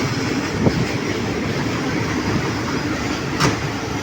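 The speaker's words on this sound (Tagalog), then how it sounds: "Yan yung train, palapit na." A small train pulling into a station in Korat, Thailand, heard as a steady low rumble of rolling wagons with a couple of faint clicks, moderately loud and continuous with no talk.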